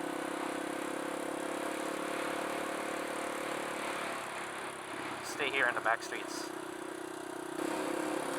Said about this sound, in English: It's a good time to go do this because this bike is noisy, so people would start complaining.